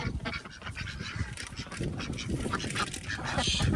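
Several ducks quack and chatter busily close by while eating quinoa, a dense overlapping racket with splashing and pecking sounds.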